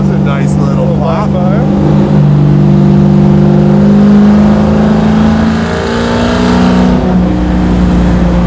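A 1,000 hp Hellephant-powered Cuda restomod revs loudly and close, its deep, steady engine roar holding for several seconds and rising and falling slightly, with no talk over it.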